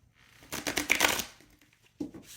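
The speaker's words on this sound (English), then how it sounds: "we're not done shuffling yet" Oracle cards are shuffled by hand in soft, papery bursts, a rustling flurry lasting about a second followed by a brief flick, quiet and close.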